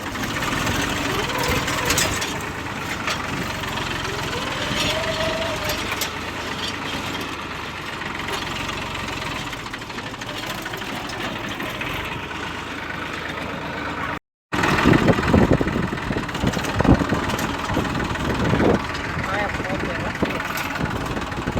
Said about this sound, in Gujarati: જોઈ શકો અહીંયા પર ટ્રેક્ટર હાલે અત્યારે